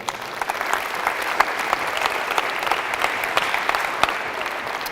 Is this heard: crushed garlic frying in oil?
no